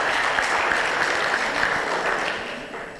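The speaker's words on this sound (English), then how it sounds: "give yourselves a round of applause" Delegates at a plenary session of the Africa Scout Conference clap for themselves, a dense, even burst of applause from a large hall audience that stays steady and then eases off slightly, with no voices over it.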